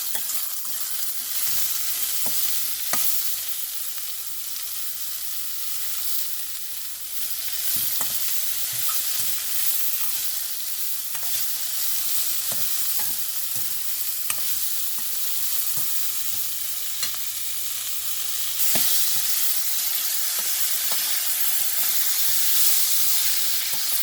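Beans sautéed in oil over medium heat sizzle steadily and close up, with a spoon stirring and tapping against the pan at irregular moments throughout.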